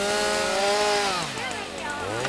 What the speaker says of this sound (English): We have our chainsaws. Let's go ahead and cut this wood, Super Kid.